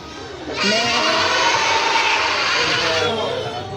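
A person imitates a goat's bleat during an animal-sound party game, a loud, sustained wavering cry lasting about two and a half seconds, with a noisy crowd around it.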